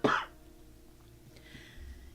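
A single short, sharp cough right at the start, close to the listener, followed by quiet room noise.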